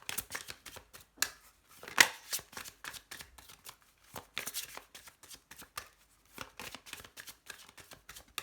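Oracle cards are shuffled and cut by hand, producing a quick run of crisp riffling and slapping bursts with brief pauses between them, close and fairly soft, with no talking.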